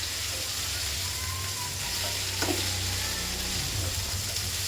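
Chayote and squash sauté in a hot pan, a steady close sizzle with occasional stirring scrapes and no talk.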